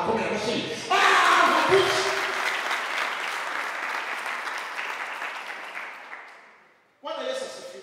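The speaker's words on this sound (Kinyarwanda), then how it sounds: "akomera amashyi" Loud audience applause at a Christian youth gathering in Wawa with a gospel singer, a dense clapping wash that swells and slowly fades over several seconds, with a speaking voice just before and after.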